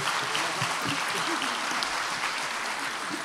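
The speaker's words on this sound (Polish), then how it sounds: "Wielkie brawa." A concert audience gives the band warm, continuous applause: a thick, even wash of many hands clapping throughout, fairly loud and close.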